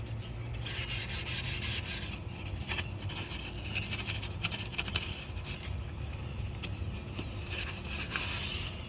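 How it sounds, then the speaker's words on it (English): A Chrysler valence is scuffed by hand before painting, producing continuous close, raspy rubbing strokes in a steady back-and-forth rhythm with no pauses. "So scuff it up the best you can."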